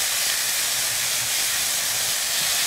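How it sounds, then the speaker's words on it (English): Food sautéing over high heat in a pan gives a steady, loud broadband sizzle and hiss that runs unbroken throughout, with no voices. "So I'll do the saute in high heat."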